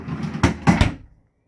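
Big pull-out refrigerator drawer in a 2019 Allegro Red diesel motorhome, heard as a few close, quick thuds and clunks of the drawer moving and shutting, ending in quiet.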